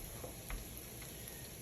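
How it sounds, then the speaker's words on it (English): Onions sauté in a pan with a faint, steady sizzle, quiet and continuous with no talking. "So we have a little bit of a sizzle."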